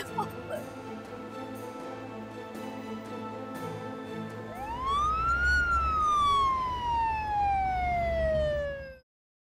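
A siren wails through a busy, noisy scene, rising then slowly falling in pitch as it sweeps past nearby, loud over a low rumble.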